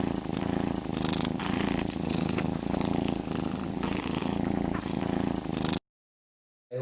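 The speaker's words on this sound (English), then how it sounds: "for the meaning of purring, I'm going to take the example of one of the world's most famous cats" A cat purrs in a steady, close, continuous rumble with a soft rhythmic pulse, heard alone for several seconds before it cuts off abruptly.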